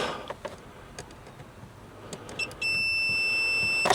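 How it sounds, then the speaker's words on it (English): After a quiet stretch with a few faint clicks, a multimeter's continuity beep testing a fuse on an L322 Range Rover switches on and holds as a steady, loud electronic tone until the end. "So hopefully we hear a beep."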